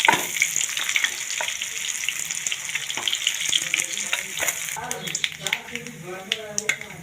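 Rohu fish frying in oil, a continuous crackling sizzle close by with some splashy, watery bursts and clinks toward the end, while a person talks over it.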